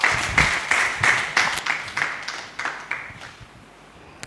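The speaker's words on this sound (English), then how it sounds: "Please, a round of applause for him." An audience at a Nigeria Independence Day forum applauds a speaker's introduction, a burst of clapping with rhythmic surges that gradually thins and fades out over about four seconds.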